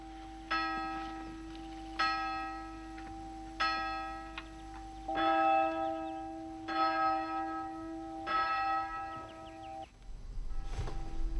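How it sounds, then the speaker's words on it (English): A church bell tolls repeatedly in slow, even strikes, each ringing out and decaying, heard from a distance over quiet background. "What are they ringing the church bell for?"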